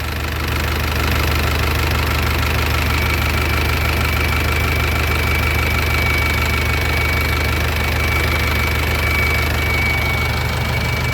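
A used six-wheel truck engine runs loudly and steadily up close, a constant heavy diesel drone with knocking rumble and no clear changes in pitch throughout.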